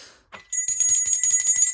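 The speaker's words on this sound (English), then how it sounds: "we got the bell" A small bell rung during a tarot reading, starting after a brief soft sound and then breaking into a fast, continuous jangling ring that stays bright and close to the end.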